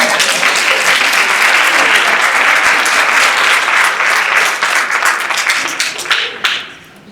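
Audience at a morning program on state government giving a loud round of applause, a dense sustained burst of many hands that thins out and dies away near the end.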